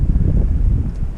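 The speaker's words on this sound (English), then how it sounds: "Very windy." Strong wind buffets the microphone on a Georgia mountain trail near a summit, a loud, continuous low roar with rough gusting texture and no voices.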